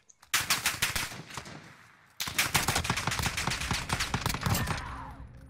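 Rapid automatic gunfire in the Modern Warfare video game, dense bursts of shots lasting about two seconds, a brief pause, then another sustained volley with no talking.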